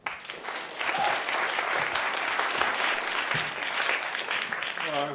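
An audience claps warmly for a speaker at a talk on performance practice, a dense, steady round of applause that rises quickly and carries on for several seconds before a voice begins at the very end.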